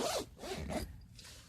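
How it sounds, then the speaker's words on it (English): A tent zipper on an Ozark Trail 7x9 four-person tent is zipped in three quick, close rasping pulls, with a quieter pull trailing off at the end. "Zipping it up again."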